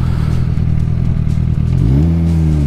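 Suzuki GSX-R sportbike rolling slowly, its engine a steady low rumble that rises in pitch toward the end, close and loud.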